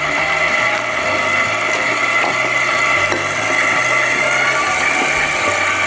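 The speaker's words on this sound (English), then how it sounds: "Gonna add it right into the mixer, let it go about 30 seconds. On low" An electric mixer running on low, beating eggs, vanilla and lemon juice for a dessert, gives a steady, unbroken motorised whir that stays loud and close throughout, with no voices.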